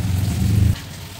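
Steady rain pours outside through a wet morning, a dense continuous wash that is loud for the first moments and then drops to a softer, even patter; no one speaks.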